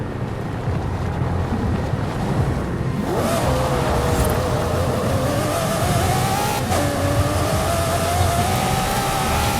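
In a racing video game, a Lamborghini Murcielago engine drones, then climbs into a rising, whining rev after a few seconds, dips briefly at a gear shift and keeps pulling loudly.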